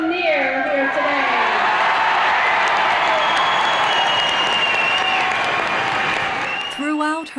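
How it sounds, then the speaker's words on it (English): A crowd gathered outdoors in Canso, Nova Scotia cheers and applauds in a loud, continuous roar lasting several seconds, with whistles and voices mixed into the clapping before it tapers off abruptly. "Why don't we give a big cheer for the crowd that have come from so far and so near here today?"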